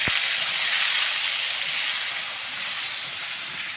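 Masala paste of cumin, ginger, garlic, onion and red chilli hits hot oil with a sudden splat, then settles into a loud, continuous sizzle that fades slightly over a few seconds.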